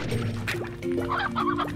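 Chicken clucking in the video game Slime Rancher, a few short close clucks over a steady musical game background with some clattering.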